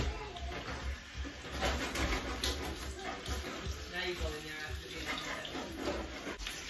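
Water poured into a pan where homemade longganisa sausages and hamburger patties are frying, giving a steady sizzling, splashing hiss that runs throughout at moderate loudness.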